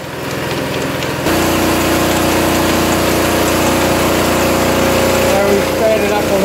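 A Crossley 24 inch gillnet lifter engine runs with a steady mechanical drone and rhythmic knocking, picking up and holding a louder, busier running sound after the first second, with a voice speaking over it.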